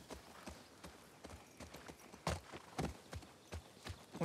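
Horse hooves clip-clopping in a steady walking rhythm while riding in The Last of Us Part 2, close and fairly quiet, with a few stronger thuds midway and no talk.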